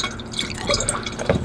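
Base water pours steadily into a hydroponic farm wall tank, a close, continuous splashing and trickling stream with no voices.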